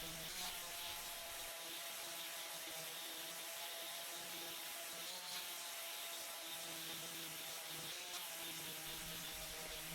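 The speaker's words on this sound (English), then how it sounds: "Now I'm sanding both sides through 80, 120, and 220 grit sandpaper." Sandpaper rubs steadily back and forth over a wooden cutting board, a continuous scratchy sanding sound heard close up with no talk, moving through coarse to fine grits of 80, 120 and 220.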